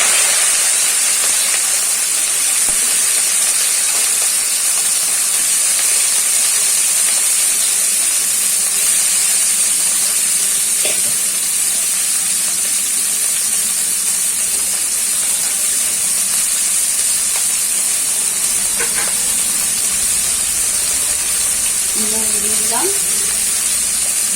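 Washed vegetables hitting a hot pan for Bengali-style chow mein, giving a loud steady hissing sizzle that continues throughout with faint clinks of utensils.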